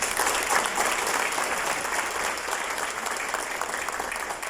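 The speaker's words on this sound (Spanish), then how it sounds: "Yo creo que un aplauso para todos ustedes primero de todo" An audience at a corporate award ceremony applauds steadily, a dense, even wash of many hands clapping that holds for several seconds without pause.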